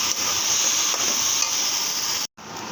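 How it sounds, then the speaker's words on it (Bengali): Onions with salt sizzle in a pan, a loud, even frying hiss that runs without a break and cuts out abruptly near the end. "পেঁয়াজটা ভালো করে ভেজে নেব।"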